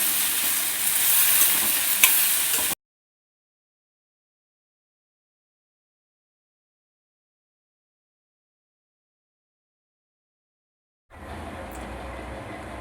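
Pepper and garlic are stirred into a frying pan for a Kerala lunch, giving a loud close sizzle with scraping for a few seconds. It then drops into a long silence before faint frying noise returns.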